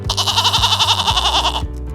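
Goat bleating close by, one long wavering bleat with a quavering pulsed tone that lasts most of the clip, loud and alone without speech.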